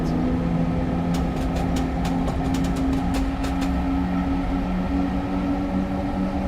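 TGV high-speed train in the video game Train Simulator Classic running at speed, a steady loud rumbling roar with a constant tonal hum and a series of light rhythmic clicks from the rails, no voices.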